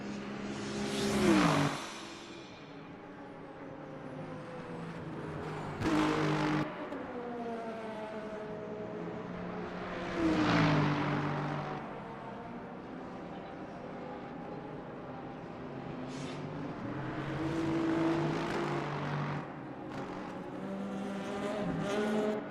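GT3 race cars in the Le Mans Ultimate racing game, several engines revving and shifting as they run nose to tail, with repeated loud passes rising and falling over a steady engine drone.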